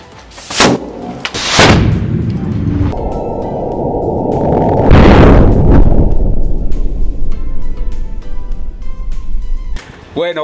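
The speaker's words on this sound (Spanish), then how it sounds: "Bueno, ya pudieron ver la explosión." A homemade bomb explodes: a loud boom and sharp cracks, then a long roaring rumble that slowly fades, ending with a brief distorted burst.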